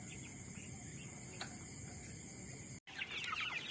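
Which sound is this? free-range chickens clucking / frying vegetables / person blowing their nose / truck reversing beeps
free-range chickens clucking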